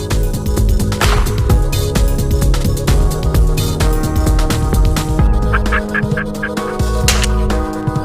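A rare white wild turkey in the Georgia woods in April calls with loud, rapid, rattling gobbles and clucks that repeat in bursts close by, over outdoor background noise, with no talk.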